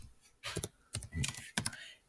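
Fingers tap out numbers on a computer keyboard in three short clusters of quick, close plastic clicks, fairly quiet, with a faint voice-like murmur behind them.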